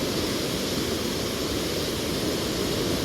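River water rushes through the opened gates of the Koneripatti barrage in a loud, steady, unbroken roar with no pauses or voices.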